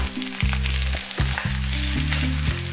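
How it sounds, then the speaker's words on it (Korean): Zucchini and green onion stir-frying in perilla oil over medium-low heat make a steady, close sizzle, with stirring scrapes and light clatter breaking in repeatedly. "중약불에서 볶아주셔야 해요"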